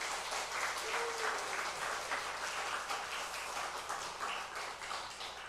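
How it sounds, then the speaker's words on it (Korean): A congregation applauds a missionary stepping up in a Korean church service, steady broadband clapping from many hands filling the room at an even level throughout, with no talk over it. "우리 선교사님 나오셨을 때 박수 많이 보내주시기 바랍니다."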